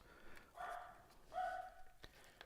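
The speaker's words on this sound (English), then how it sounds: "Somebody ought to shut up the dog." A dog barks indoors off in the background, two drawn-out yelping barks followed by a soft whimper, fairly faint and with no voice over it.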